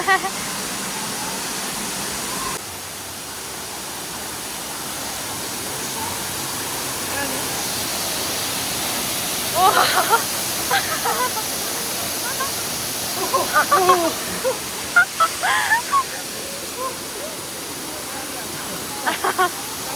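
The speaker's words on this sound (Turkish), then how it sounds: "Şimdi şelaleye giriyorum." Steady broadband rush of a waterfall at Gizlikent near Saklıkent, heard up close as someone enters the falling water, with brief splashes and faint voices over the constant roar.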